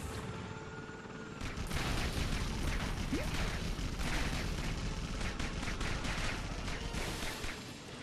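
Gunfire in the LEGO Batman video game on PSP: a rapid, sustained rattle of shots that starts after a quieter opening second and keeps going steadily at moderate volume until the end.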